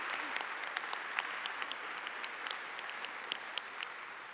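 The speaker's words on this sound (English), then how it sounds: "Let's give her a round of applause" A church congregation gives a round of applause for a newly appointed pastor, a steady, fairly quiet wash of many hands clapping with scattered sharper claps standing out, heard from a distance across the room.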